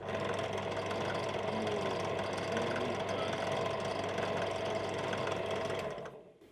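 A burnt electric motor on a drill press runs with a steady mechanical whir and rattling hum, loud and close, before quickly spinning down and falling silent at the end.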